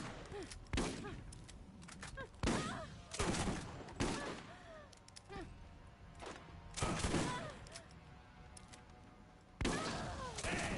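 Enemy gunfire in the video game Borderlands, repeated bursts of shots and impacts at irregular intervals, loud and punchy, with a player talking over the action.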